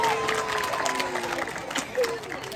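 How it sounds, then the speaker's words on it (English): An audience at a sea lion show at West Midlands Safari Park cheers and claps, a fairly faint, steady crowd roar with a few whistles. "But everyone, give Callum one last cheer to say well done."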